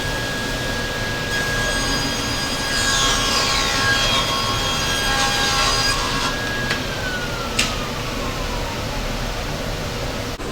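A power saw rips through a wooden board for an angled shelf part, a steady loud whine with a rising screech as the blade bites through the wood, then the cut ends and the motor runs on.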